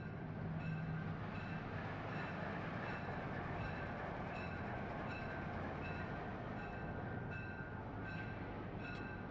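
San Francisco State Belt number 25, an Alco S2 diesel switcher locomotive from around 1955, gives off a steady, faint rumble with light rhythmic clicking throughout.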